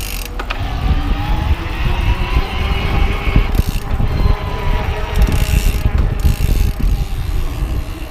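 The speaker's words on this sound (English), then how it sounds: "I'm going to take it all the way up to boost mode and just start pedaling" Steady mechanical whirring and clicking of a BESV TRS1 electric bike drivetrain pedaled in boost mode, with rolling road noise and a few sharp ticks throughout.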